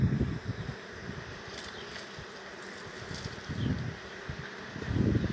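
A soft steady hum of many honeybees buzzing around a hive nearby, swelling a little now and then, with faint rustling in the background.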